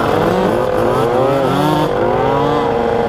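Car engines revving during a group car outing on a scenic road, loud and close, with several engines rising and falling in pitch together, sweeping up and down over a continuous roar with no talk.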